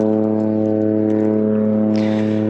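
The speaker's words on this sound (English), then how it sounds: "You're probably going to hear a lot of airplanes in the background today." A steady, loud propeller drone with a strong low hum holds throughout, like a small plane passing close overhead, with a brief hiss near the end.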